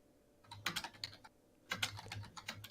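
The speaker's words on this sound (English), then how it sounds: "Everyone's typing." Several people type on computer keyboards in rapid clattering bursts of keystrokes, with a pause between two flurries, quiet and close with no talking.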